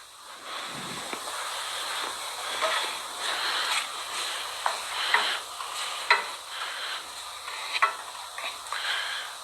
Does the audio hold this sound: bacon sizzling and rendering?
yes